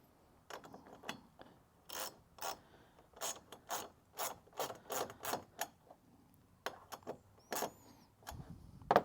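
A small nut threaded onto a Starlink dish mount gives a series of about a dozen close, crisp ratcheting clicks in short bursts, quiet between them, with no talk.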